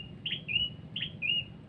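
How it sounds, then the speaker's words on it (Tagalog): A bird whistles two repeated rising-then-steady calls, each under a second, standing out clearly over a low rumbling background at a moderate distance. "Yung ibon kasi mga tay, pinituan tayo."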